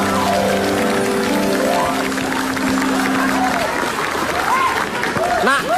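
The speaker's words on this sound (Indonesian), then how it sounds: "Tepuk tangan." Studio audience applause on an Indonesian comedy talk show, steady and fairly loud, mixed with music-like tones and a voice talking over it.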